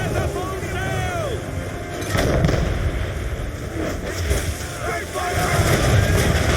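Ship cannon fire during a naval battle in the Assassin's Creed III video game, heavy booming bursts over a constant rush of wind and sea, mixed with shouted orders and voices.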